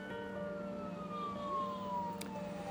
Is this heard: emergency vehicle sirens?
yes